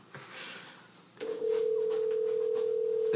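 A Skype call rings out as a single steady electronic tone, loud and close, starting after brief low background sound and holding to the end.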